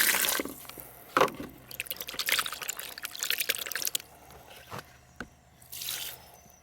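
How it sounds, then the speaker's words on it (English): Water splashes and sloshes inside a kitchen scrap bucket as it is rinsed out. Irregular pours and drips come close up, with a few sharp clanks of the bucket and short pauses between bursts. "And the bucket, I will rinse it out."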